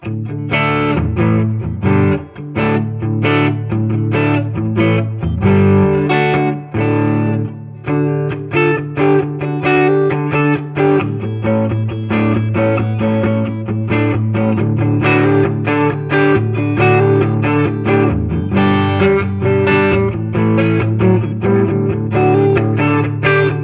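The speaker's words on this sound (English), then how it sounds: "Let's go to the spring reverb on the Tone Master." Electric guitar played through a Fender Tone Master Deluxe Reverb amp on its spring reverb, with a hot-pickup tone and light distortion, strummed chords and riffs ringing out loudly and continuously without talk.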